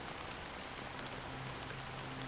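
Steady rain falling inside the video game Honkai: Star Rail, a soft, even hiss of drops at moderate distance, continuous and unbroken with no voices over it.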